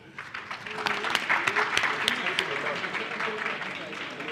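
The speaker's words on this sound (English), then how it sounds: "Please may you give them a round of applause" An audience at a creative community workshop applauding panelists, steady dense clapping from many hands in a room, fairly soft and even throughout, with voices under it.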